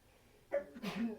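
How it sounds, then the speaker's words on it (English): A single short sneeze, sharp and close, with a quick intake of breath just before it in a quiet room. "So if you heard him sneeze, that's why."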